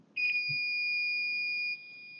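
A digital multimeter gives its continuity-test beep with the probes touched together, a single steady high electronic tone held for about a second and a half in a quiet room, moderately loud and close.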